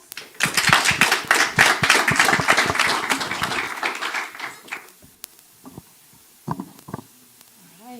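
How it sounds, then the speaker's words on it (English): Applause from a small audience at a tech showcase stage event, sharp distinct hand claps for about four seconds that thin out and fade, followed by a few scattered claps and quiet room sounds. "Huge round of applause."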